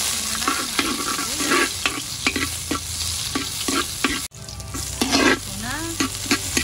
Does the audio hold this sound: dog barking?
no